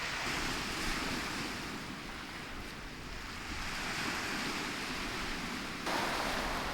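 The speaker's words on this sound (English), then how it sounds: "we're about to get a few minutes of the waves just crashing against the shore here, gently crashing I should say" Sea waves wash steadily against a stormy beach, a continuous broad roar of surf with wind noise buffeting the microphone and no voices.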